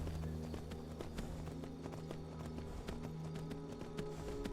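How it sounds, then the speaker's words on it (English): A horse's hooves clip-clop at a steady trot while riding in the Skyrim VR video game, a continuous rhythmic beat over a low droning background. "Where do I take this horse?"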